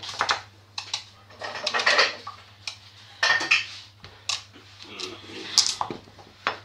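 A small kitchen knife cuts slices for an autumn spaghetti sauce, giving irregular close tapping knocks against a board with a few metallic clinks, over a low steady hum and occasional faint voice.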